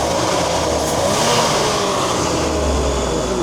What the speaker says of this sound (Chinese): 但这么高的温度，引擎提速还是很好的